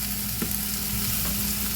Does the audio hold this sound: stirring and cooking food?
yes